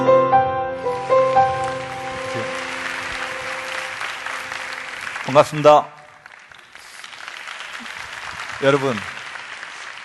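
Audience applause in a lecture hall, a moderate wash of clapping rising after a speaker's greeting, mixed with a tonal music sting and brief louder bursts, with someone talking over parts of it.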